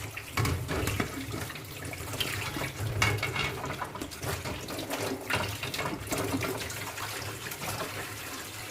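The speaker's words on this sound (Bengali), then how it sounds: "এটা আমাকে আবার ভালো করে ধুয়ে নিতে হবে" Tap water runs steadily into a sink while dishes are washed, with a continuous splashing flow and occasional soft clatter of items being rinsed nearby.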